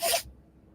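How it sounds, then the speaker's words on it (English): A dog gives a single short, sharp sneeze, a quick hissing burst close to the microphone, followed by quiet. "my dog's sneezing."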